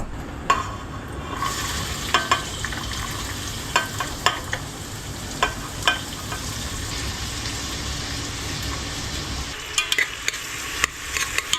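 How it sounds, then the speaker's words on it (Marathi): Onions and green chillies fry in a pan for a Konkani appo offering, giving a steady sizzle with occasional sharp clinks and stirring scrapes, close and continuous throughout. "तो मिरसांग घाला आणि एक सायडान हांव कांदोय घालून सोडता म्हळ्यार वग्गी वग्गी भाजताल ना."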